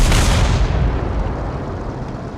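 A tank blown apart in a World War II tank video game, a Tiger facing KV-1s tanks, bursts in one loud, close, booming explosion that rolls into a long, fading rumble.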